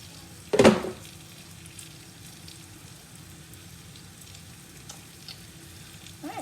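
Green tomato slices fry in a pan with a steady, even sizzle. A single dull knock near the start is the only interruption, and nobody speaks.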